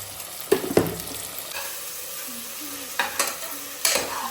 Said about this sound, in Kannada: ಹಾಕ್ಬಿಟ್ಟೆ ತುಪ್ಪ ಈಗ ಸ್ವಲ್ಪ ಹಾಕಿರೋ ಟೊಮ್ಯಾಟೊ ಸ್ವಲ್ಪ ಸ್ಮ್ಯಾಶ್ ಆಗುತ್ತೆ